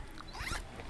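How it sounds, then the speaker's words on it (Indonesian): A zipper on a fabric-lined pouch packaging for a mountain sandal is pulled open in one quick, close, faint rasping stroke. "dan untuk packagingnya sama juga, pakai puring dan pakai resleting di sini"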